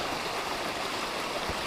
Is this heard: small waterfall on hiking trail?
yes